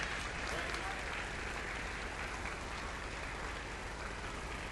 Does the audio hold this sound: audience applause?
yes